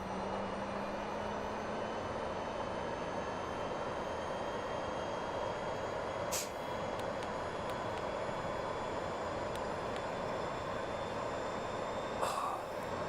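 PMDG Boeing jet turbine engines in Microsoft Flight Simulator hum at a constant, loud, even roar with a thin high whine on top, steady throughout with a couple of faint clicks.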